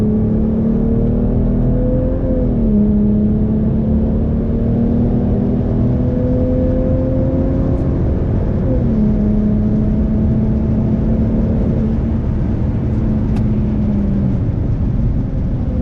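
Tuned Volvo S60 T6 (P3, Stage 2) accelerating hard down a drag strip, its engine drone loud and steady inside the cabin, pitch climbing and dipping briefly at the gear shifts.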